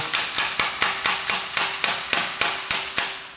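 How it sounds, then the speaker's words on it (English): A slide hammer strikes about eleven times at a steady rhythm, each a sharp close metallic clank, while pulling the transmission filter from a Buick LeSabre's 440-T4/4T60 automatic transmission. "Just thread the old slide hammer on there."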